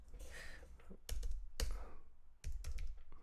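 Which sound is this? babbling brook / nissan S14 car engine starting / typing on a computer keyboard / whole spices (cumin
typing on a computer keyboard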